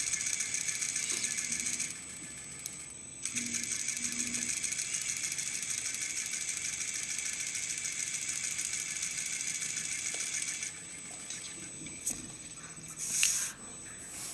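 A sewing machine runs steadily while stitching the seam that joins a vest front to its facing, a close, even mechanical whir with one short pause before it resumes, and quiet handling noises near the end.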